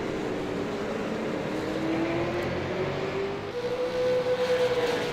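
Race cars lap a track during qualifying night, a continuous engine drone from a distance with a rising whine that shifts pitch as the cars circle, no talk.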